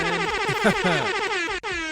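Loud air horns blare in a short burst of overlapping, brassy tones that bend and stack together, cut by a brief gap near the end.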